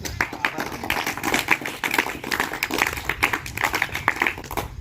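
An audience at a Yoga Day event in Akola claps in an uneven, continuous patter of hand claps throughout, close and moderately loud, with some voices faintly underneath.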